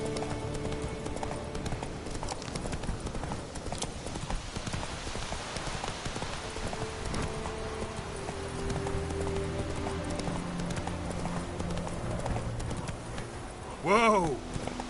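Horse hooves clip-clop at a steady walking rhythm in a game, with ambient birds and a brief whinny near the end, and a voice speaking to the horse.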